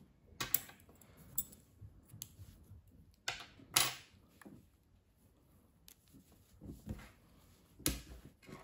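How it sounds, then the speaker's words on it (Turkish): Scissors snip crochet yarn while a dress is being crocheted, several quiet, sharp clicks spaced out at close range over a near-silent background. "İpliği kesiyorum."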